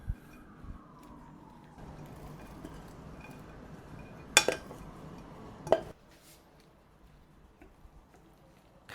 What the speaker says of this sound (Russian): Хорошенько перемешиваем до однородной консистенции.